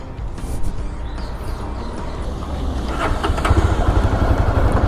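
Jawa Bobber 42 motorcycle on a test ride, a steady engine drone with heavy wind rush that grows louder and more throbbing toward the end.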